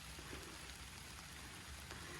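Rain falls steadily on an outdoor garden plot where sweet potatoes are being dug up, a soft, continuous patter with no voices.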